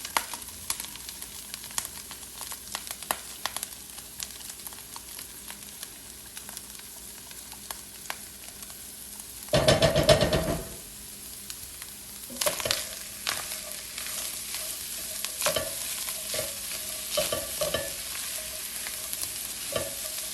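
Onions sizzling in a pan with diced meat for corned beef hash, a steady close crackle with scattered stirring scrapes and one brief louder burst of hissing midway; no voices.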